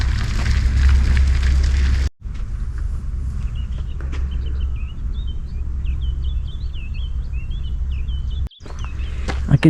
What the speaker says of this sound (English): I can hear a lot of birds chirping.